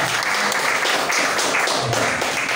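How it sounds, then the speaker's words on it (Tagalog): A church congregation claps for the Lord, a dense, steady patter of many hands heard at moderate distance without a break. "Palakpakan natin muli ang ating Panginoon."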